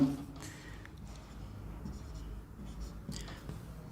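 A pen or pencil writes numbers by hand while working a maths calculation, giving quiet, faint scratching strokes against a soft background.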